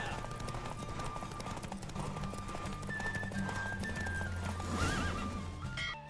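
A horse races in The Witcher 3, with a steady drumming of hooves and a whinny mixed into the game's engine and ambient tones. It holds a constant level, and there is no talking.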